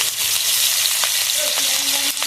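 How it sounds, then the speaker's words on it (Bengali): Chopped onion and crushed green chilli hit hot oil for a Bengali fish and brinjal curry, giving a loud, continuous close sizzle with light stirring and a few faint clinks throughout. "তেলের মধ্যে দিয়ে দেবো কেটে রাখা পেঁয়াজ আর কাঁচা লঙ্কা"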